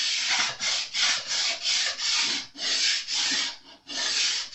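Sandpaper rasping back and forth along a Jazz Bass neck's wooden fretboard, about eight steady, rhythmic strokes close up with brief pauses between them, no voices.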